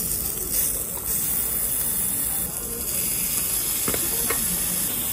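Fatty meat sizzles steadily on a hot plate, a continuous loud frying hiss close by, with faint background clatter and a couple of brief knocks near the end.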